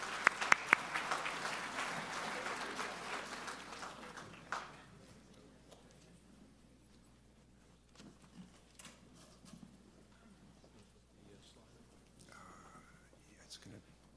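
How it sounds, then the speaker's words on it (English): Applause for a panel at a border security symposium, a burst of clapping that is strongest at the start and fades away over the first few seconds, leaving quiet room noise with scattered faint sounds. "give another round of applause to our panel"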